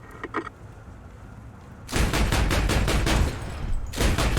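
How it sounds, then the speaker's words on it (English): Rapid bursts of 30mm cannon fire from a QN506 light tank in the War Thunder video game, loud close repeated shots in a fast rhythmic stream with a short pause before resuming. "Able to use my 30mm cannon as an anti-aircraft gun."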